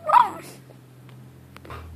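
A dog lets out one short, high yelp or whimper at the very start, fairly close, followed by quiet background with a low hum and a couple of faint clicks.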